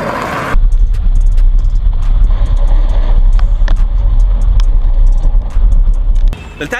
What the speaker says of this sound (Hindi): जैसे गाड़ी आपकी थोड़ी सी इंबैलेंस होगी आप हैंड ब्रेक खींचेंगे एंड वापस ऐसे कर देंगे